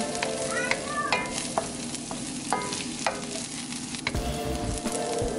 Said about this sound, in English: Just until fragrant, you don't want them to like burn or anything, so just make sure you're stirring them.